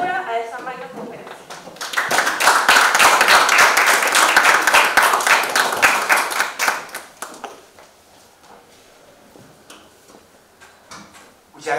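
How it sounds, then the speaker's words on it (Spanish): Strong, dense applause from a conference audience greeting a university engineering dean, swelling fast, holding steady for several seconds, then thinning to scattered claps before a voice begins. "me gustaría que recibamos con un fuerte aplauso al profesor Elías López"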